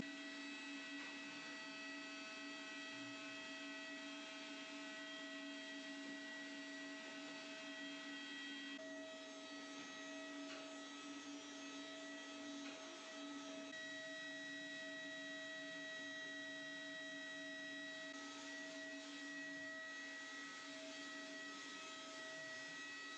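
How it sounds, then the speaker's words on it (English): A vacuum cleaner runs steadily while cleaning the ceiling of a tractor shed, a sustained whining hum with bright tonal lines that stays even and unbroken for over twenty seconds, only slightly shifting in pitch. "Now I'm gonna vacuum the ceiling"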